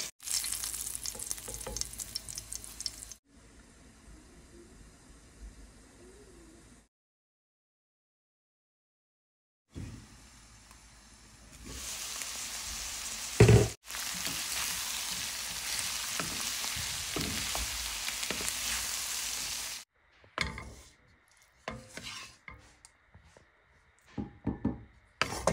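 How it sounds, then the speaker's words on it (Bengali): Chopped snake gourd frying in a pan as a Bengali home-style bhaji, steady sizzling and stirring in stretches broken by abrupt cuts and a silent gap, with brief handling knocks near the end. "চিচিঙ্গা ভাজি করে নিচ্ছি"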